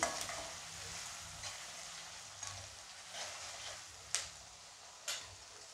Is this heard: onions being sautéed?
yes